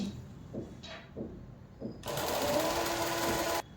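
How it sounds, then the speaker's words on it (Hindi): A sewing machine runs a plain straight seam on a katori blouse, whirring steadily for about a second and a half near the end, after a few soft clicks and fabric handling. The sound is close and quiet. "अब देखिए यहाँ से 3 इंच तक मैं प्लेन सिलाई दूंगी"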